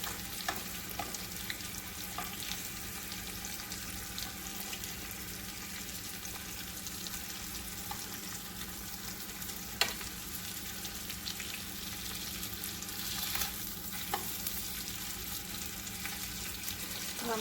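Breaded chicken cordon bleu fries in oil on the stovetop with a continuous close sizzle. One sharp knock marks the flip partway through, and light crackling holds steady throughout.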